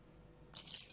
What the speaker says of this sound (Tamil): kita tuang sedikit air, கொஞ்சமா தண்ணி விட்டா போதும்